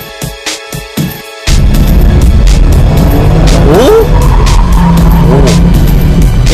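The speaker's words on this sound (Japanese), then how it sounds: "Let's see how the Atessa ETS system reacts on the skid pad." Nissan GT-R with Atessa E-TS four-wheel drive on a skid pad: tires squeal and skid loudly and continuously over a steady engine roar, with a wavering screech rising partway through, after a few short mechanical knocks at the start.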